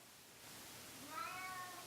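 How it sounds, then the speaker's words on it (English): A single cat meows, a drawn-out rising and falling cry that stands out briefly over quiet room hiss. "That's the cat and it just scared the crap out of me."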